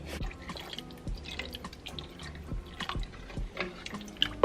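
Water from a can pours into a pot of tomato sauce and lean ground meat, with irregular close splashes, drips and trickles of varying loudness, no voices.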